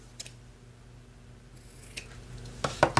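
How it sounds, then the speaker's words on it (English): Scissors cutting a piece of thread net in a quiet room: faint rustling, then a few sharp close snips bunched near the end. "what you do here is you just cut a piece of this thread net"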